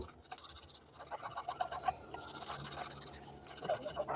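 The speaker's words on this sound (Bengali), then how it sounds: "আবার একটু পিতাম্বরী পাউডার আর একটু লিকুইড ভিম দিলাম দিয়ে আবার আমি কসবাইট দিয়ে এটাকে ঘষে ঘষে পরিষ্কার করবো" A burnt wok being scrubbed with a scrubber, cleaning powder and liquid dish soap, a continuous close scratchy rubbing with quick back-and-forth strokes.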